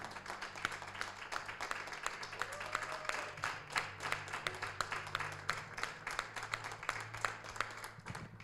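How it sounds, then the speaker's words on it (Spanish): A church congregation applauding during a sermon: many hands clap in a steady, dense patter that carries on throughout, moderately near, with a low hum of the room underneath. "Vamos, dan un aplauso."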